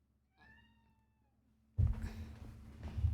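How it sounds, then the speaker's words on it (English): A cat in Dragon Age Origins gives a single soft, drawn-out meow, faint and clear against near silence, then louder rumbling game ambience and movement noise take over. "Okay, this cat is saying meow to me"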